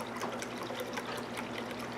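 Sprite soda pours from a 2-liter bottle in a steady, soft trickling stream, faint and continuous for a couple of seconds, with no talking.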